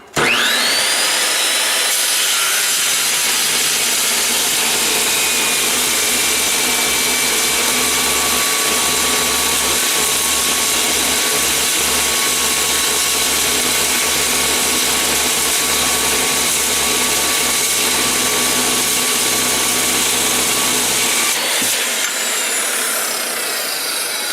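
A power tool makes a big, steady cut in material for a homemade pig tank, grinding loudly and continuously for about twenty seconds before it abruptly stops.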